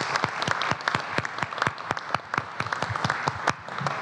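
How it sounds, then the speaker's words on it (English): A modest audience at a college forum on tolerance applauds panelists, distinct individual claps rattling in a brisk, fairly close, uneven rhythm for several seconds without talk. "let's give a round of applause to all of our panelists"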